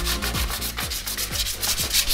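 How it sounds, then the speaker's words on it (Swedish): Bodywork on a BMW being sanded down, with loud, close, rhythmic rubbing strokes repeating back and forth at a steady pace and no voices. "Slipningen pågår här. Och vi ska slipa ner hela första breddan."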